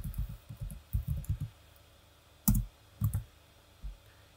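A computer keyboard being typed on, a quick burst of close, firm keystrokes followed by a pause and a few separate heavier presses.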